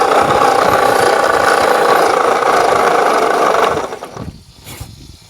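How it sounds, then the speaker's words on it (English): A Ford 8N tractor engine turns over on its starter, a loud, steady churning cranking that runs for nearly four seconds before cutting off abruptly, leaving faint quieter sounds afterward. "There's the starter button right there on top of the transmission"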